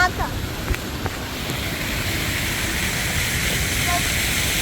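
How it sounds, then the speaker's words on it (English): Steady rushing splash of a large water fountain at Mega Bangna shopping centre in Bangkok, Thailand, a dense continuous wash of falling water with faint voices and a few brief clicks early on. "today I'm going to show you a water fountain from Thailand"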